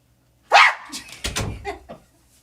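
A dog barks close by, a sharp yelp followed by a few shorter barks and yips in quick succession, all within about two seconds, with no talking over it.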